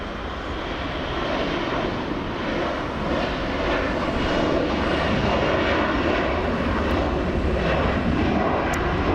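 A Delta Airlines Airbus A321 jet rolls along an LAX taxiway with a steady, full engine roar that swells slightly over time, loud and unbroken, with no speech.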